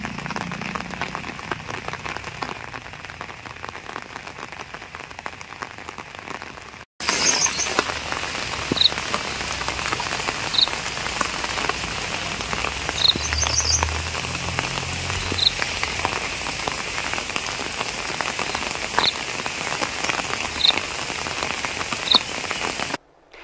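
Steady rain falls from dawn over farmland during the paddy season, a dense hiss of drops on surfaces. It drops out briefly, then returns louder and keeps falling without a break.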